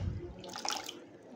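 Cut potatoes being rinsed by hand in a bowl of water, a short burst of sloshing and splashing that swells and fades within a second or so, fairly quiet and close.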